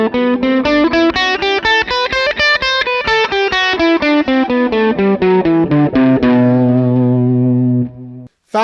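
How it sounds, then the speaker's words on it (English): A distorted electric guitar plays a quick run of single notes up and down a B Phrygian mode, ending on a sustained low note that rings out, then stops. "3 is your B Phrygian mode."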